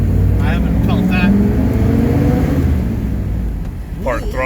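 The non-turbo International diesel in an old Chevy truck runs with a steady low rumble and engine drone, loud and close, while people talk over it.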